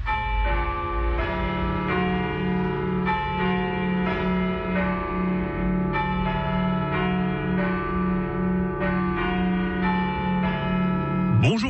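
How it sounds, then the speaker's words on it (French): A church carillon in Fribourg chimes a continuous melody of overlapping bell strikes with long ringing tails, steady and full for the whole stretch, with no talking over it. "Nul doute que ce carillon vous rappelle quelque chose."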